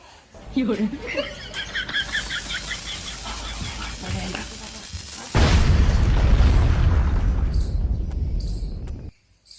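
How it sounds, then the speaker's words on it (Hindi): People talk and chuckle during Diwali, then a firecracker goes off with a sudden loud bang followed by a few seconds of roaring, crackling noise. "अरे कौन बोला चला गया पटाखा"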